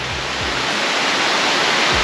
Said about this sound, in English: quite possibly one of the most beautiful waterfalls we've ever seen